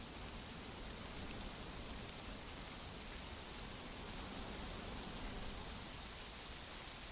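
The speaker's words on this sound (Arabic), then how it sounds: "نشوف عاد قوة المطر والضباب" Heavy rain in the video game Conan Exiles: a steady, dense hiss of downpour fills the whole span at even loudness, with no voices over it.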